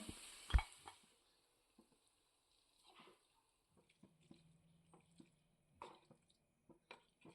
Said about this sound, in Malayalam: ഒന്ന് വരട്ടിയെടുത്ത ശേഷം നമ്മുടെ മെയിൻ ഐറ്റമായ കണവ ഇതിലേക്ക് ചേർക്കാം. വീണ്ടും നന്നായി ഇളക്കി കൊടുക്കാം.